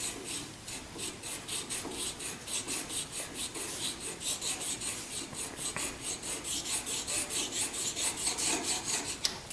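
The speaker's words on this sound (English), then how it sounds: "And then I'll actually clean that up again with a stone, doing the same process," Fine rhythmic rasping of a sharpening stone drawn with light forward pressure across the hammer hooks of a 1911 pistol trigger assembly, close and steady, repeated strokes with no talking.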